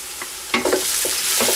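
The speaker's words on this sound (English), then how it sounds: "the onions are beautifully browning. Now we add the chilies." Browning onions in a pan for lamb curry, with sliced chilies tossed in, produce a brief loud sizzle and a few sharp stirring scrapes and knocks, close up and without voices.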